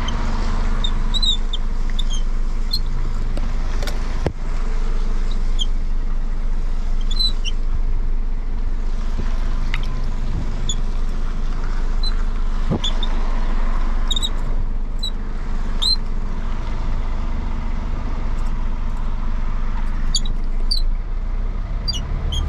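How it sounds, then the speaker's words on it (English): A knob inside a Scania truck cab squeaks in short, scattered high chirps over a steady engine rumble while the 24-metre truck and trailer reverse. "Sorry for the squeaking sound of this knob right here."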